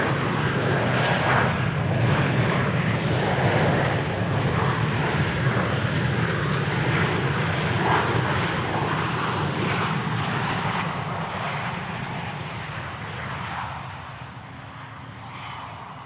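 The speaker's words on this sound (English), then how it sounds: "Runway 34 right, clear for takeoff." Airliner taking off from runway 34 right at Sydney Airport, a broad, steady engine roar that stays loud and continuous, then gradually eases as the aircraft pulls away.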